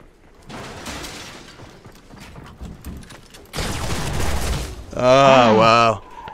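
Rapid gunfire bursts from a video game duos match, loud and close, with chattering volleys that swell into a sustained barrage before a short ringing tonal effect near the end; excited voices are faintly present in the mix.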